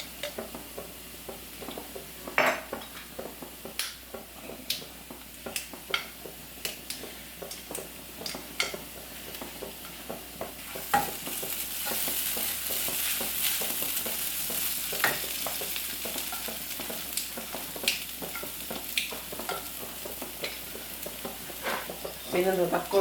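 Whole spices such as cardamom, cloves, cinnamon, star anise and mace dry-roasting in a pan, a soft sizzle broken by many small ticking stirs and scrapes, close and fairly quiet throughout.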